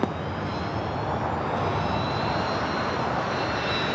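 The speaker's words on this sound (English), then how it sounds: "United Airlines Flight 39, flight heading to Tokyo Haneda in a 787-10 Dreamliner. Now rolling down at 25 right." Broadband jet roar of a United Airlines Boeing 787-10 Dreamliner on its takeoff roll down runway 25 Right at LAX, bound for Tokyo Haneda, steady and loud throughout with no voices.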